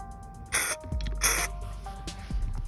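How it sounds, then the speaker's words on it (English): Starter fluid is sprayed into a lawnmower carburetor in two short, loud hissing bursts close by, followed by quieter handling clatter. "you just spray some starter fluid right in there"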